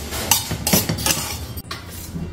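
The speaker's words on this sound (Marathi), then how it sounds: "आता हे आपण थोडे जाडसर कुटून घेणार आहे" Ingredients being coarsely pounded by hand give a run of sharp, close knocking and clinking strikes in an irregular rhythm, several hits in quick succession followed by a brief pause, with nobody speaking.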